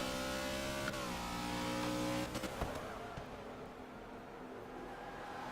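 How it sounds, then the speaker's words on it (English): A loud Holden V8 Supercar engine roars at high revs during qualifying, shifting and dropping pitch as it brakes, then rumbling lower, heard close and alone. "That Holden sounds so angry."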